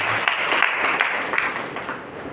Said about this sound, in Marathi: आपण एकदा जोरदार टाळ्या वाजवल्या पाहिजे